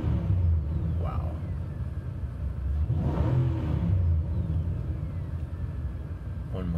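A 2012 Nissan Titan King Cab Pro-4X pickup engine rumbles at idle, then revs up briefly in a couple of throaty bursts before settling back, heard from a moderate distance.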